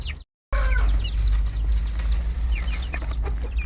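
Several chickens cluck and chatter nearby, short repeated calls overlapping against a low steady background hum.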